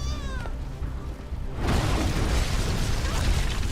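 An explosion in the video game Beyond: Two Souls rips in suddenly after a quieter stretch with tonal game sounds, then settles into a loud, dense roaring rumble that keeps going.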